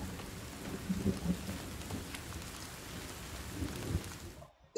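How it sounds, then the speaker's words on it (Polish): Steady rain pours with rolling thunder rumbling through a storm in the survival game The Forest, a continuous dense wash that cuts off abruptly near the end. "Burza."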